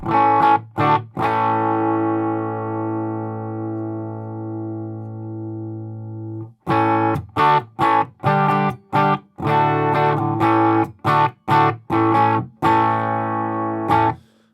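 Bright, distorted electric guitar through a Quilter amplifier with treble boosted: a long sustained chord ringing out, then a run of choppy, rhythmic strummed chords with crisp, treble-heavy attack.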